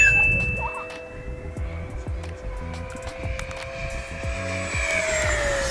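An RC model plane at full throttle makes a steady buzzing engine drone with a pitch that shifts as it passes; a voice talks briefly over it.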